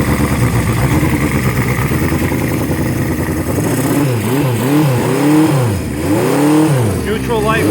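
1976 Honda CB750 motorcycle engine on a cold start, running loud and close with a fast steady idle, then repeated rising and falling revs in the second half.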